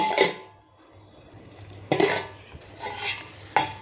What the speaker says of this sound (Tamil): இப்படி சேர்த்துக்கிட்டோம்னா இப்போ மூடிடுவோமே